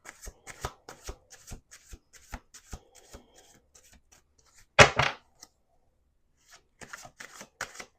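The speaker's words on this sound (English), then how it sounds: "Let's do 2 more shuffles." A deck of tarot cards is riffled and shuffled in quick bursts of soft, close flutter and tapping, with one louder riffle midway and no talking.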